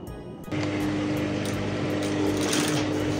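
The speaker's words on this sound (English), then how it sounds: "So I'm going to sew for the vertical ones and then the horizontal ones" Sewing machine stitches boning onto a bra cup in a steady, fast, continuous whir that starts abruptly after a brief quiet moment and runs close and even to the end.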